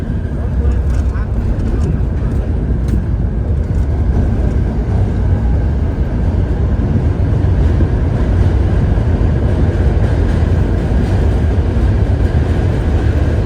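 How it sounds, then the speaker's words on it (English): Steady loud rumble of a train passing below a bridge in Manhattan, continuous and broadband for the whole stretch, with wind-like noise mixed in. "Yes, there is a train going down below."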